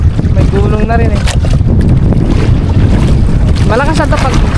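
Waves slap and wash around a small fishing boat at sea, a steady loud rush with gusting wind on the microphone, while a voice speaks faintly through parts of it.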